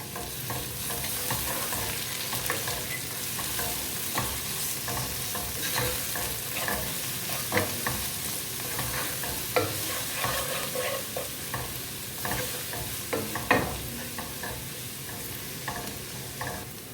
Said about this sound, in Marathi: यातच आपण 2 मोठे चम्मच अद्रक लसणाची पेस्ट घालणार आहोत.